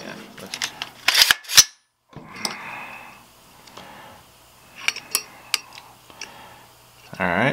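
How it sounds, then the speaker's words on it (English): A Rock River Arms two-stage rifle trigger being pulled against a trigger pull gauge gives sharp mechanical clicks and snaps, a loud pair early, then scattered lighter ticks in a quiet room. "let's see what the trigger pull is on it right now"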